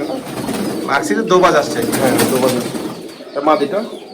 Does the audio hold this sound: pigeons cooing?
yes